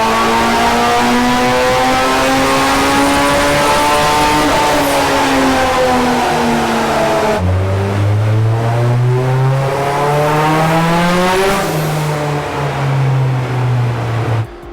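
A classic Ford Sierra XR4i with a swapped-in turbocharged Honda S2000 engine runs loud on a dyno, its tone climbing steadily through the revs, dropping sharply at a gearchange near the middle, then climbing again before easing off.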